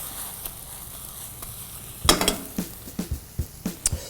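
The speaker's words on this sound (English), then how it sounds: "let me saute my escarole" Escarole sautéing in a pan, a quiet sizzle at first, then a burst of louder crackling as it is tossed, followed by a series of sharp utensil clanks against the pan.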